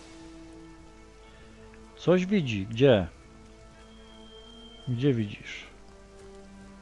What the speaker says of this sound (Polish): Jak nie padało, to nie padało, a teraz pada.